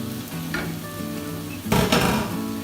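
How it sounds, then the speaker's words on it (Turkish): About 250 grams of ground meat fries together with onions in a pan for stuffed zucchini boats, giving a close, steady sizzle with a few louder stirring bursts near the end and no talk. "Onu da soğanlarımızla birlikte kavuralım."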